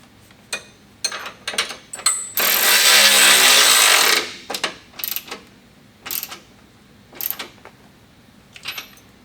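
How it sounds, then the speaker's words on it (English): A tool works the main 18mm bolt on the trailing arm of a 2022+ Polaris RZR Turbo R: scattered sharp mechanical clicks, then one loud buzzing burst of about two seconds, followed by more separate clicks, with no talking. "now we can go ahead and tighten the main 18mm bolt"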